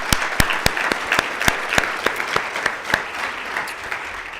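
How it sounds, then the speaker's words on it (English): An audience at a North Carolina rural assembly event claps in a brief round of applause, with sharp individual claps standing out over a steady patter that fades slightly toward the end. "Let's give the Danville folks another round of applause."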